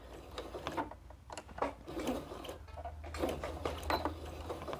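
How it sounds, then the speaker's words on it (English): A sewing machine stitching off the edge of a quilt's facing and then back stitching, a close, rapid mechanical whir and clatter that runs in short bursts with brief pauses, no talk. "You're just going to simply sew right off, and you can back stitch."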